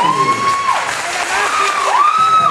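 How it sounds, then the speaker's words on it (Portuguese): An audience at a talk bursts into applause and cheering, loud crowd noise with whoops and a few high shouts, steady throughout. "Aplausos, gente!"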